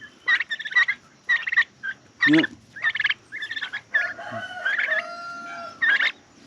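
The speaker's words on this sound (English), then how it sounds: "Here's the turkeys." Friendly domestic turkeys near a coop give repeated gobbling calls in short, close bursts, with brief pauses between them and one quick word spoken partway through.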